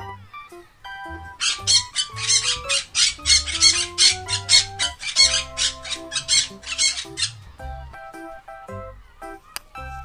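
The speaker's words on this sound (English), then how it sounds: "P for parrot" A parrot squawks in a fast run of harsh repeated calls set over a bright children's alphabet song melody, the squawks lasting several seconds before the music carries on alone.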